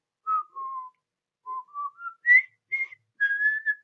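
A lone person whistles a short march melody by K.J. Alford, clear and close, in several phrases with brief pauses, no talking.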